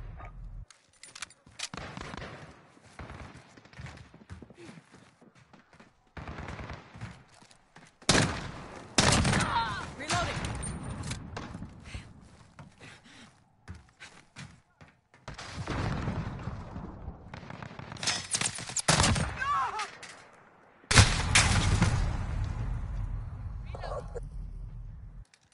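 Gunfire in a PS4 online shooter comes in bursts of rapid shots and sharp blasts, some loud and close, others thinner, with gaps between volleys and someone talking over parts of it.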